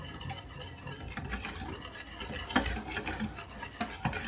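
Cream, milk, sugar and agar-agar being stirred in a pot, a continuous scraping and swishing with a sharp clink of the utensil against the pan partway through.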